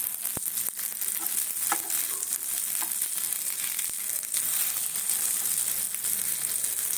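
Fritters (bora) frying in hot oil give a steady close sizzle throughout, with a few brief clicks and scrapes as they are stirred in the pan.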